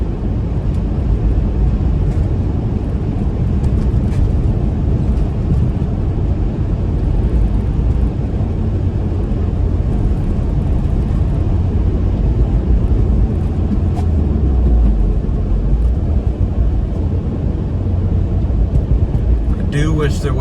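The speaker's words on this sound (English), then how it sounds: "So I'm just kind of cruising in 5th gear right now. We're going about 60 miles an hour." A 2013 Mini Cooper S R56 cruises in fifth gear at about 60 mph, its steady low engine drone and road rumble running continuously without pause for the whole stretch.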